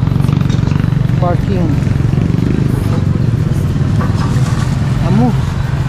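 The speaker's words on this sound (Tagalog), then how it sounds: "Andito na yung motor." A motorcycle engine idles with a loud, steady low rumble close by on a busy street, while voices talk over it and a few brief chirpy sounds pass through.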